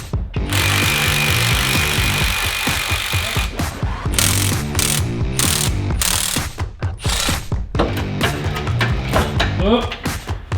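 A ratchet clicks in quick bursts as bolts come off the K-frame of an LS1-powered VY ute, close and loud, with pauses between runs and some background voices.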